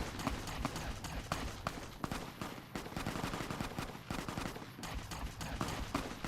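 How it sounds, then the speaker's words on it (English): A far-off gunfight in the Fallout New Vegas wasteland, with a dense, continuous crackle of rapid shots and bursts that stays fairly faint and unbroken throughout. "Some gunfight is going on over there."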